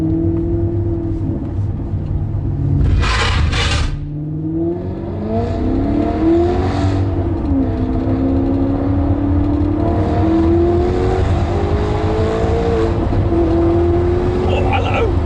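A V8 Maserati accelerates hard, its engine note climbing through rising revs and gear changes, loud and close from inside the car, with a short burst of noise early on.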